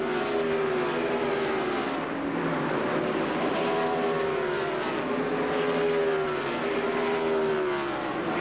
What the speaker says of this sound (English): Pit stops beginning.